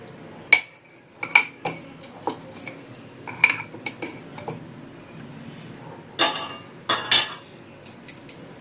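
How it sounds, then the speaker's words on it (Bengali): Lemon juice is stirred into a raw mango mixed pickle, with a spoon clinking and scraping against the container in separate bursts amid quiet gaps, close by and with no talking. "লেবুর রসটা দিয়ে ভালো করে মিশিয়ে নেব।"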